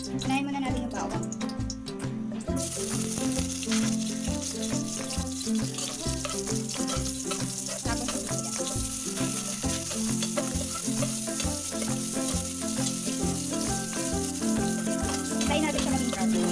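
Garlic sizzles and fries steadily in a hot pan for beef kaldereta, a continuous crackling hiss under background music, with a brief burst of louder spatter at the start.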